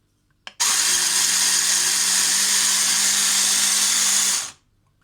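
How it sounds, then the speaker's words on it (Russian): Blender whirring steadily through cooled dried apricots for pastila, a loud continuous motor drone lasting about four seconds after a brief click, then spinning down to silence; no talking. "Сейчас мы будем его крутить в блендере."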